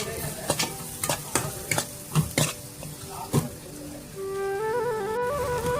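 Onion frying with mustard seeds, cumin, garlic and chili powder in a pan for okra sabji: a run of distinct scraping stir strokes, then a steady close sizzle, with no talking.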